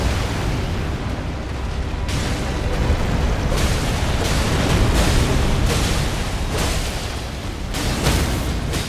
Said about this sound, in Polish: teraz będzie strzał z magmy